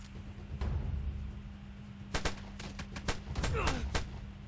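AK rifle fire in a PvP survival video game crackles as a quick cluster of sharp shots, several spaced pops over a low steady background hum, fairly faint and at middle distance.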